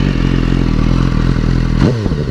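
A 2016 BMW S1000R with a flash-tuned ECU and a stock tailpipe, exhaust valves held open, idles loud and close with a steady rumble, then snaps into a sharp rev that climbs and falls away near the end.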